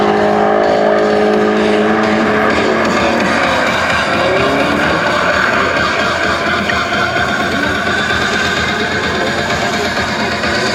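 A drift car at the French drift championship roars loudly and without a break around the track, its screaming engine mixed with tyre squeal and skidding throughout.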